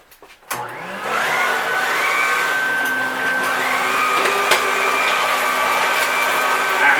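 An Electrolux AP280 electric broom vacuum cleaner switches on after a brief click and clatter, then runs with a loud, steady whirring hum and faint shifting whine throughout, with no one talking.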